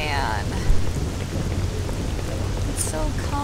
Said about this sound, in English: oh, the sweet sound of rain is like music to my ears